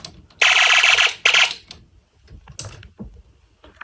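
A snap circuit fire alarm system sounds in loud electronic bursts: two long shrill blasts, then a shorter one after a pause, with faint clicks and handling noise in between.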